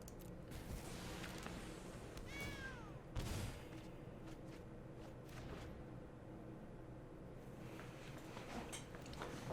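A cat card in the MTG Arena digital card game gives a short synthesized meow with a rising-and-falling wail, set against steady game background music and effects.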